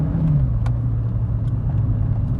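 A Volkswagen Lupo GTI's naturally aspirated engine responding to a light dab of throttle, a short close rumbling rev that swells and settles back, heard alone without talk.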